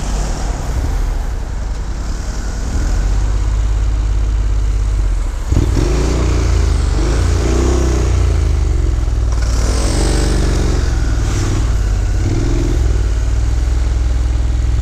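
A moped suspected of being stolen is ridden through London streets during a chase, its loud buzzing engine and rushing road and wind noise continuous throughout, with traffic and a brief rising rev partway through.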